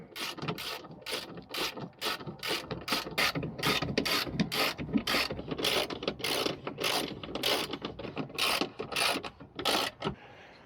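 A hand ratchet tightens bolts on a Dominion Offroad hi-lift jack mount for a Jeep JL, giving rapid rhythmic clicking strokes in uneven bursts, close and clear with no talking.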